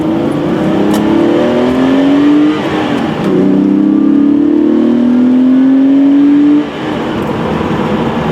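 Porsche 964 resto-mod on AirLift suspension heard from the cabin while driving, its engine loud and close, revving up through rising pulls with a brief dip between gear changes, then easing off at the end.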